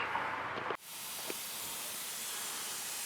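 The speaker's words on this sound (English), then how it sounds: "Sorry for the air noise, because I got this fitting right here that controls my air ride." A steady, loud hiss of escaping air from a truck's air ride fitting fills the clip, shifting in tone partway through but continuing without a break.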